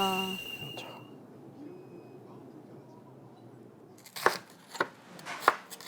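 A few sharp knife chops on a cutting board, three distinct strikes near the end after a quiet stretch of faint kitchen hum.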